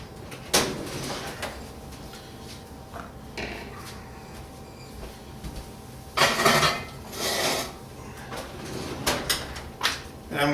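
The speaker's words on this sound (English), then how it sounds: "now we're going to slide this right back in the oven on top of those bricks" A lidded pot of whole grain sourdough rye bread is slid into a hot oven onto bricks, giving several scraping, knocking clunks in short bursts, louder toward the end, with no talking.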